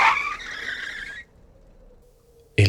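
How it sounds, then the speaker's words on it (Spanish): Car skidding on pavement as a sound effect: a loud, wavering tire squeal for about a second that cuts off into a low fading hum, then a sharp heavy thud at the end. "El coche derrapó con un giro violento sobre el pavimento."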